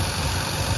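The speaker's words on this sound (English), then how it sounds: "it kind of worries me that it's idling a little too low" A 1990 Dodge W250 Power Ram truck engine idles low and steady, a close, continuous rumble with no other sounds.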